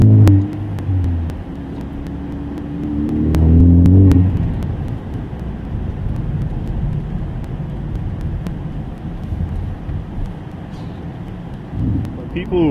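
A Ford Focus ST with a catless downpipe exhaust drives along, its low, steady engine drone swelling slightly around the middle, with wind rush and a voice talking over it.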